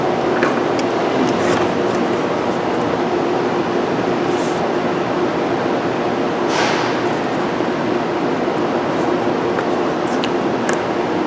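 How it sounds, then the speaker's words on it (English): A Nissan 2.5 engine cranks at wide open throttle during a compression test, giving a steady, droning whir that holds without pause under a few faint clicks. "cylinder number 2, wide open throttle, crank it up, Des."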